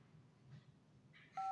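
Keypad tones of a telephone as a number is dialed, beginning near the end with a loud, steady tonal beep after a quiet stretch of faint room noise.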